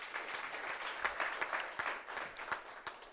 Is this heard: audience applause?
yes